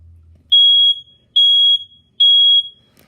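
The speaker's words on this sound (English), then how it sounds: "whenever the smoke detector smells smoke, it makes this sound." A smoke detector alarm gives three loud, piercing electronic beeps in an even rhythm, each lasting under half a second, with silence between them.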